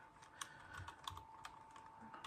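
Quiet typing on a computer keyboard, a run of light, irregular key clicks at close range, soft and steady with no voices.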